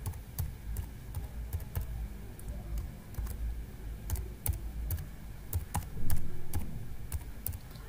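An email address is typed on a computer keyboard in quick, irregular bursts of close, crisp key clicks that run steadily with short pauses and no talking.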